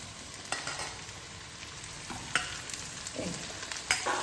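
Sliced bitter gourd and potatoes frying in a pan, a steady soft sizzle broken by a few sharp stirring scrapes at moments, no voices.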